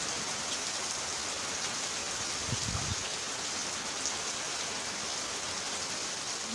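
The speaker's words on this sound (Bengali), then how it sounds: "দেখো কি মুসুলধারে বৃষ্টি" Heavy pouring rain, a dense, steady hiss of downpour that continues evenly throughout at moderate level, with a brief low thump partway through and no speech.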